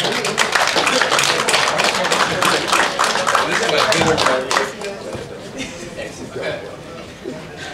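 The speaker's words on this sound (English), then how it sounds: "round of applause for everyone" Audience applause rings out at a criminal justice class on due process, a burst of dense clapping for several seconds that tapers off toward the end.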